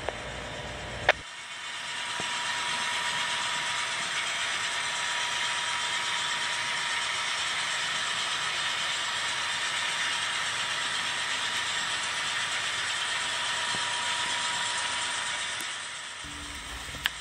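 A BNSF freight train climbing eastbound through the upper reverse loop at Marias Pass, a steady, even rumble of engines and rolling wagons held at constant loudness for about fifteen seconds, starting and stopping abruptly.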